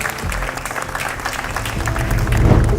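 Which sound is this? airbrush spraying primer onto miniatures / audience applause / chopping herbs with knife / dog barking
audience applause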